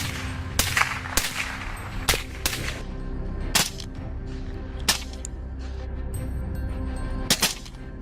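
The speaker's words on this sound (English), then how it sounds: "a series of sharp shots ring out, each one finding its mark as the boars attempt to flee" Sharp gunshots fired at wild boars on a farm: about eight loud, abrupt cracks at irregular intervals over a steady outdoor background, with two shots in quick succession near the end.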